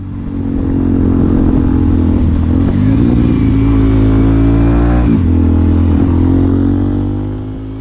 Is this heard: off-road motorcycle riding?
yes